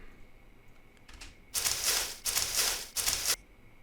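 Foley paper sounds for an animated short: three broadband crinkling, rustling bursts of handled paper, each under a second long, loud and close against a quiet background.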